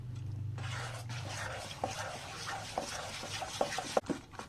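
Batter made with date palm jaggery (khejur gur patali) for patishapta, stirred in a bowl with soft scraping and sloshing, faint and close, with light clinks of a spoon against the bowl.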